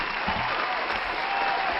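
Applause from an audience, a dense continuous wash of many hands clapping at steady loudness, brief and without talking.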